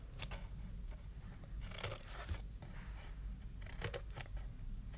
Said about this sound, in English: we're going to carefully cut along those slits